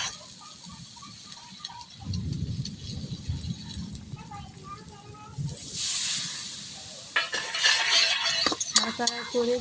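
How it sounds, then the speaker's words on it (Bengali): Mutton curry with chopped tomatoes and whole green chilies stirred in a pot, with clattering spoon-on-metal scrapes, a low bubbling stretch, and a bright hiss of steam toward the end. "মিডিয়াম সাইজের 3টে টমেটো কুচি দিয়ে দিলাম, 4টা কাঁচা লঙ্কা, গোটা কাঁচা লঙ্কা দিয়ে দিলাম, দিয়ে আবার নেড়ে নেব।"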